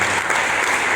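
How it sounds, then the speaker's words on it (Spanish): Full, steady applause from a church congregation during an evening sermon, dense and sustained for a second without speech over it. "Dale ese aplauso."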